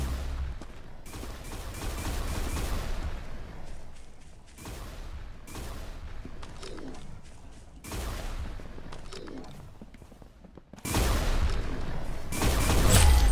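Gunfire in the Roblox game Arsenal crackles in repeated rapid bursts separated by short gaps, ending in a louder, denser volley, with no talk.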